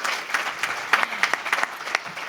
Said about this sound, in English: a round of applause for him is in order